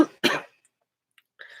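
Two short, sharp coughs from a nearby person, the first brief and the second heavier and louder, followed by a long silence and a faint rasping breath or throat sound at the end.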